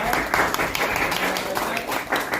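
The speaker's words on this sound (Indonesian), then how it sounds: "beri tepuk tangan untuk Artalita" Classroom clapping for a student after a presentation during a teacher-training lesson, a moderate burst of many hands with individual claps audible, with some voices mixed in.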